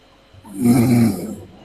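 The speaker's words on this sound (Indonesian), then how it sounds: "Ada yang ngorok." A person snores once, a deep rasping rumble that swells over about a second and then fades. It is fairly loud and close, with no talk over it.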